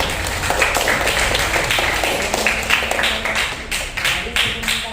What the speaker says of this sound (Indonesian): Tepuk tangan untuk Latifah ya